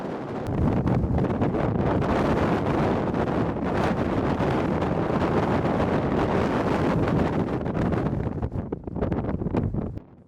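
Strong, continuous wind buffets the microphone in Ethiopia's Danakil region, roaring and rumbling steadily for several seconds before easing slightly at the end.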